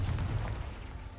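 A Confringo blasting-curse explosion from the Hogwarts Legacy video game: a loud, dense, bass-heavy boom that rumbles steadily through the whole moment with no voice over it.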